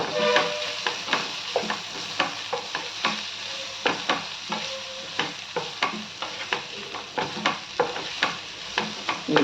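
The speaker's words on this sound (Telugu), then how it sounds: "ఇప్పుడు కొంచెం సాల్ట్ వేసుకోవాలి వేసుకొని మళ్ళీ ఒకసారి బాగా కలుపుకోవాలి లివరు" Boiled liver being stirred with salt in a hot pan, a spoon scraping and knocking in a steady repeated rhythm over a soft continuous sizzle, close and with no talking.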